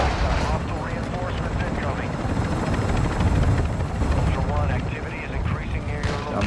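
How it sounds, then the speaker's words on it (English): A helicopter flies close by in a military video game, its loud continuous rotor thump and engine drone running through the whole clip under the players' talk. "I'm not making that chopper, by the way."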